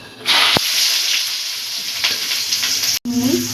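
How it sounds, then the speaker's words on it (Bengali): Steady, loud sizzling of onions frying in a pan, with a couple of brief scraping stirs and a short break near the end. "এবার এটা আমি পেঁয়াজটা ভাজা ভাজা করে নেব"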